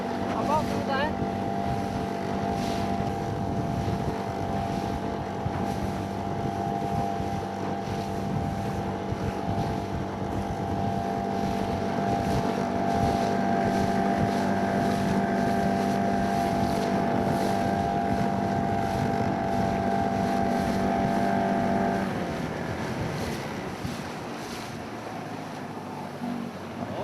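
A motorboat engine drones steadily and loudly while crossing choppy waves at the Hornafjörður estuary near Höfn, Iceland, with wind buffeting the microphone, before the engine note drops near the end.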